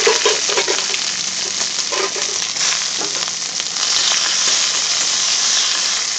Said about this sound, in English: let's splutter the mustard, then drop in the seasoning